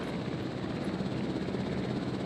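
ACU helicopter in a video game, its rotor a steady, continuous whir with broadband engine noise holding level and close throughout, no voices.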